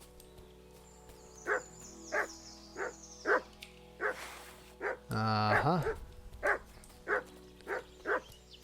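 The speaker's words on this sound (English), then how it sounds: "Is that a dog?" Dog barking repeatedly in the video game Kingdom Come Deliverance II, sharp evenly spaced barks at moderate distance, with a brief spoken interjection midway.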